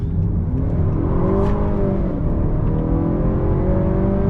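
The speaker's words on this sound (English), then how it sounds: "Get quite a bit of wheel spin there. I was just about full throttle on the pedal." A 2020 Honda Accord midsize sedan under full throttle with wheel spin, a steady loud engine drone and tire whir heard from inside the car, with no talking.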